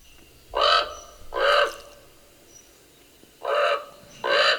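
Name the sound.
common raven calling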